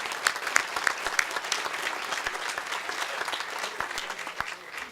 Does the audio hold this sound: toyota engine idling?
no